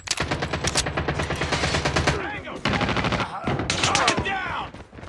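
Rapid automatic nail gun fire in the mobile game Call of Duty Mobile, in dense repeating bursts with short gaps between volleys, loud and close, mixed with game effects.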